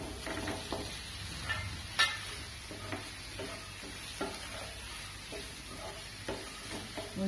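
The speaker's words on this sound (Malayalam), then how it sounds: "ഇനി നമുക്ക് ഈ മുട്ട ഇതിലേക്ക് ഇട്ട് കൊടുക്കാം." Eggs go into a pan of frying masala for a Kerala egg roast, a soft continuous sizzle with scraping and stirring clinks scattered throughout, fairly quiet and with no talk.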